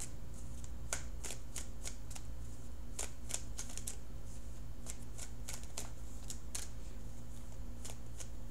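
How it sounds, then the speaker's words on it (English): Tarot cards shuffled by hand for a reading, a steady run of riffling flutters and soft slaps close by over a constant low hum, with no speech. "I'm going to cut the cards shortly."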